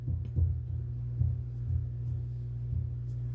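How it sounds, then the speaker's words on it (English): A transformer inside a Donkey Kong arcade cabinet gives off a steady low electrical hum with faint soft thumps over it, heard close and quiet with no voices. "I can hear a hum. I think that's just from the transformer."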